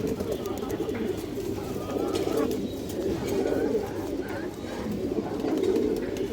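Red chulli female pigeons cooing together in a loft, a continuous overlapping low throaty coo rising and falling close by, with faint background murmur.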